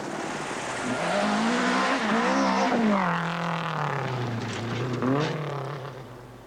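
A worn rally car from the 1984 Sanyo Rally New Zealand drives past on a gravel stage, its engine droning and shifting pitch as it revs up and down, loud and continuous throughout.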